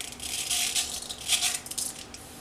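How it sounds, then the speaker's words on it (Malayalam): Mustard seeds splutter in hot oil in a pan while a jackfruit seed thoran is being made, giving faint, irregular crackles and pops that come in scattered bursts. "കടുക് പൊട്ടി വന്നിട്ടുണ്ട്."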